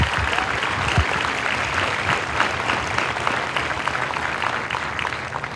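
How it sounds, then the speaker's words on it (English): A crowd at a 331st Training Squadron basic military training graduation applauds the training instructors, a thick, steady roar of clapping with a few sharper claps, sustained and fairly loud from start to finish. "Let's give them a round of applause."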